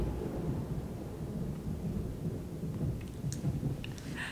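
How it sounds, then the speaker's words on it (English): Thunder from a thunderstorm rumbles low and continuous, with rain pattering alongside and a few faint crackles toward the end. "I love thunderstorms"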